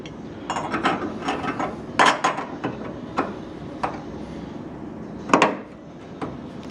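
Bolts being tightened on a car part give a scattering of sharp mechanical clicks and ratcheting knocks, some in quick bursts, separated by short pauses, close by and with no talking.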